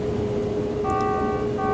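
Inside a combine harvesting corn, steady engine and machinery drone carries a short electronic boundary warning alert: a pair of beeping tones rises over the rumble, stops, then briefly starts again near the end.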